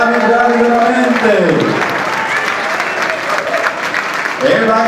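An audience at an Italian gathering applauds continuously, a dense wash of clapping, with a voice talking over it at the start and end.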